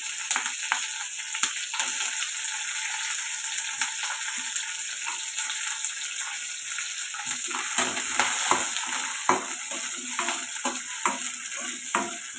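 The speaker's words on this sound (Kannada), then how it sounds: "ಮತ್ತು ಕಡಲೆ ಬೀಜ ಹಸಿಮೆಣಸಿನ್ಕಾಯಿ ಮತ್ತು ಕರ್ಬೇವಿನ ಸೊಪ್ಪು ಇದೆಲ್ಲನೂ ಎಣ್ಣೆಲಿ ಕರ್ಕೊಳ್ಳಿ" Peanuts, green chilies and curry leaves fry in oil with a steady bright hiss and crackle, close by, marked by occasional pops and spatters throughout, with no voices heard.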